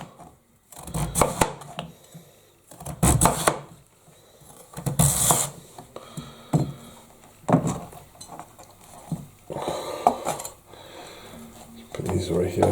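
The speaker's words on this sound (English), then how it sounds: "Just chop it into bits like this." Knife chopping vegetables into bits for a winter vegetable soup, in uneven clusters of sharp, close cuts on a board with pauses between bursts.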